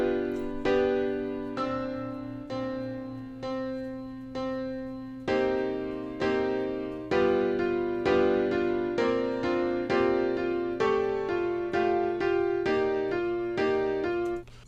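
A sampled melody plays as clear, bell-like tones, slow repeating notes at first that build into a faster, steady sequence over a sustained low drone, with no voices.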